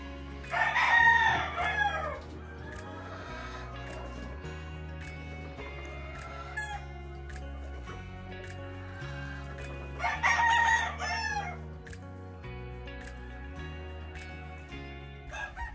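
Gamefowl roosters, Makunouchi Super Brown Red and Takamura Blue Face Hatch breeding birds, crow loudly twice, about nine seconds apart, over steady background noise with occasional faint clucks and scratches.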